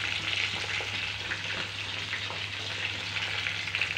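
Rui fish fries in hot oil in a pan, giving a steady, close, continuous sizzle with no talk.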